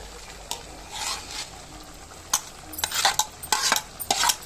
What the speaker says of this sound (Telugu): సిమ్లో పెట్టుకొని కూరని ఇలా కూడా కలుపుకుంటారమ్మా